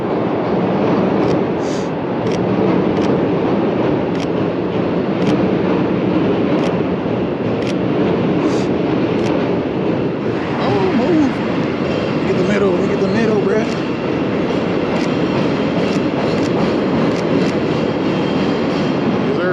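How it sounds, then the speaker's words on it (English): A train rumbles past nearby with a continuous rolling roar and faint wheel squeals, while a couple of people speak briefly over it. "There goes my train"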